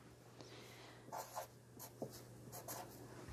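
Pencil writing a word on paper, close and quiet: a few short scratchy strokes and taps spread unevenly over a few seconds, with faint low hum behind.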